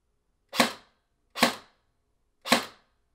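Three evenly spaced shots from an airsoft AEG fitted with a foam-filled suppressor, each a short, soft, muffled pop followed by a quick decay, close and alone with no voices.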